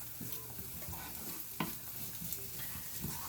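Butter melting with chopped onion in a pan, a soft steady sizzle with light stirring scrapes throughout and one sharper clink partway.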